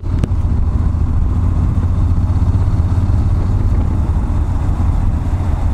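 Honda NC750D Integra twin-cylinder motorcycle engine and exhaust running at a steady, loud, deep rumble throughout, close by, with no talk over it.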